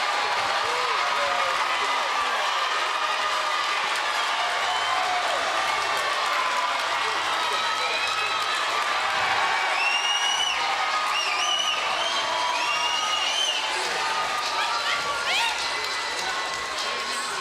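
A boxing arena crowd roars with sustained cheering and applause after a knockout in a women's super middleweight title fight, a dense continuous wall of noise with a commentator talking over it.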